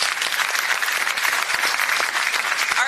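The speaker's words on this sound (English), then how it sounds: "A big round of applause for these guys" Applause from an audience at a business event with sponsors, steady dense clapping that fills the whole stretch at an even, fairly loud level with no voices over it.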